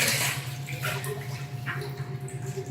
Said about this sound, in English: swish them around in a little colander or some water, give them a good swirl and swish.